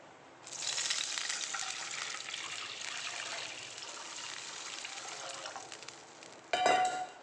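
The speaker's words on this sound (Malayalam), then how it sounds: "ഇനി നമുക്ക് ഇതിലേക്ക് ഇനി എടുത്ത് വെച്ച വെള്ളം എടുത്തിട്ട് ഒഴിച്ച് കൊടുക്കാം" Water is poured into a hot pot for fish biryani, setting off a loud, close hiss and sizzle that settles into a steady bubbling, with a short splashy burst near the end.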